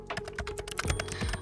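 Rapid keyboard typing in the A Date with Death video game, a quick run of crisp, close key clicks over a faint steady hum, with no voices.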